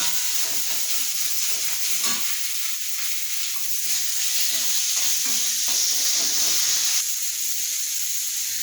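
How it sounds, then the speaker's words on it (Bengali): A spice paste with tomato fries in oil for a vegetarian potato dum, a steady, close sizzle and hiss that runs throughout with faint stirring and no talking. "মশলাটা আমার লাল লাল হয়ে ভাজা হয়ে গেছে, তেলও ছাড়তে শুরু করেছে।"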